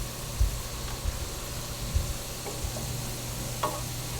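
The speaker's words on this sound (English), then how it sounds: "we're going to keep stirring so that we don't get clumps" A spoon stirs broccoli cheddar soup in a pot, giving soft scraping strokes and occasional low knocks over a steady quiet hiss, with no talking.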